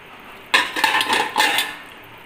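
Cooked lauki phara is lifted out of a metal cooking pot, giving close, loud clinks and scrapes of utensil against pot in a short burst, with no talk.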